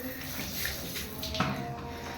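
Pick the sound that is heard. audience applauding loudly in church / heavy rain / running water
running water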